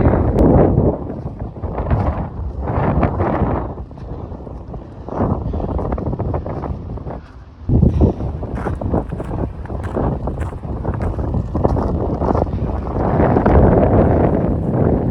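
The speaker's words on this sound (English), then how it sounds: "The wind is so strong that I have to walk like this." Strong wind roars and buffets the microphone continuously on a freezing winter mountain hike, with gusty surges and rumbling bursts throughout.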